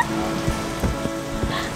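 Rain falls in a steady, soft hiss, with a few faint drips and taps over the patter.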